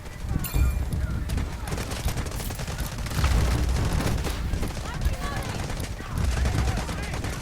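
Rapid gunfire bursts from the video game Delta Force, dense repeated shots and booms running throughout, with a voice talking over the action.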